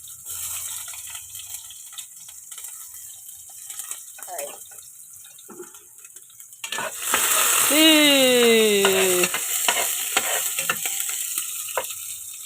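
Onions tossed into hot oil and stirred, a loud sizzle surging up midway with scraping of a utensil in the pan, under background noise and a squeaky rising tone.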